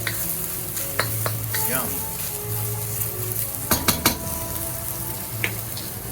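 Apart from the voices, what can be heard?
stirring sauteing mushrooms in a pan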